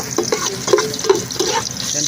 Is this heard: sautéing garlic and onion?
yes